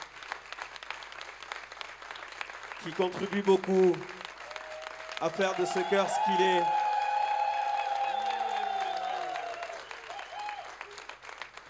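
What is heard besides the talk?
audience applause at a choir concert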